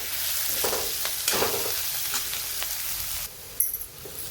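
Coarsely pounded green chili and garlic sauté in a pan, giving a close, steady sizzle with several sharp stirring scrapes that drops lower near the end, and no voices.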